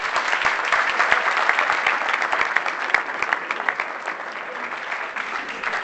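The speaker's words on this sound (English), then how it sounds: "let's give them all a round of applause" A conference crowd bursts into applause, a dense, even wash of many hands clapping that stays strong and gradually thins slightly toward the end, with no talking over it.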